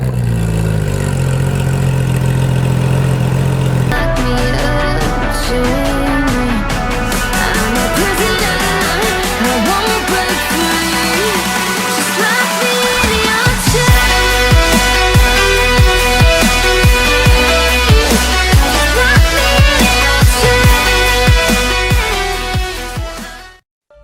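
A Porsche 911 GT3 RS of the 991.2 generation runs at idle, a loud, steady mechanical tone with layered harmonics and some shifting pitch as the engine settles, continuing without speech for over twenty seconds.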